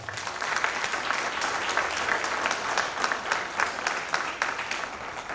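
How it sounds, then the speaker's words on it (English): A crowd at an advisory board meeting claps steadily throughout, a dense, even round of applause with no voices standing out. "give yourselves a round of applause"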